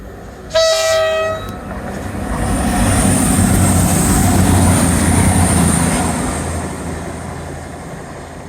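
A train horn sounds briefly, then a loud train rumbles past close by at Teignmouth, its roar swelling and slowly fading with a faint high squeal.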